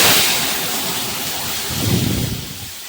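Boiled chana dal hits a hot tempering of cumin, bay leaf and chilli, setting off a loud, dense, close-up sizzling roar that swells briefly before settling into a steady hiss.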